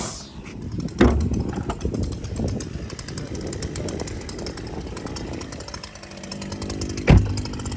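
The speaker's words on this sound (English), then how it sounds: "Please excuse the noise, someone's cutting the grass." A grass-cutting machine runs nearby with a continuous buzzing engine drone, loud and steady, broken by two sharp knocks.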